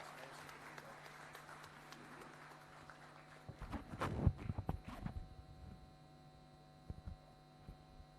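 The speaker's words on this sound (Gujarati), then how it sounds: "તાળીઓના ગડગડાટથી આપણે સૌ એમને વધાવીએ" An audience claps at a Deepawali celebration in a short burst of applause midway. It rises from a quiet, humming room, then fades back to low hum with a stray clap.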